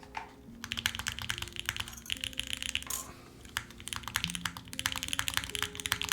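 Fast, steady typing on a mechanical keyboard during a custom build, with dense clacky keystrokes and the deeper thock of the spacebar mixed in, close and continuous, with no talking.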